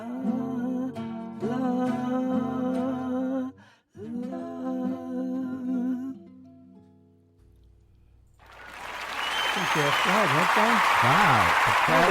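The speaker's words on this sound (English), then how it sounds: "Wow, the crowd is going wild here at Woodstock." Music plays first, then drops away before a large Woodstock festival crowd swells into a loud, sustained roar of cheering and shouting voices that holds to the end.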